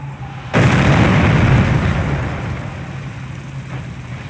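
Artillery barrage in the WWII strategy game Company of Heroes, a loud sudden blast followed by a rumbling roar that gradually fades into a lower background din.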